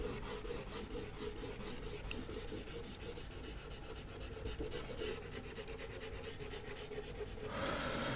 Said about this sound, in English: So the whole area has more or less been burnished by the eraser.